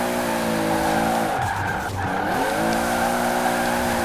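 A Toyota Supra drifts in Forza Horizon 4, its tires squealing continuously over a loud, steady engine drone with a brief dip in pitch midway.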